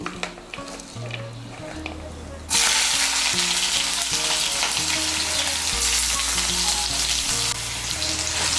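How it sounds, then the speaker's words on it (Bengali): Chopped onion hits hot white oil in a wok for a Bengali egg korma, setting off a sudden loud, steady sizzle that holds to the end over quiet tonal background music. "এর মধ্যে আমি দিয়ে দিচ্ছি একটা বড় সাইজের পেঁয়াজ কুচি।"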